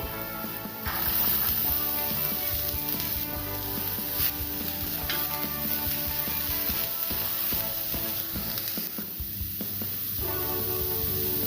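Chopped beans and carrots fry in hot oil in a pan for egg fried rice, a dense continuous hiss and crackle that stays loud and close throughout, with no voices.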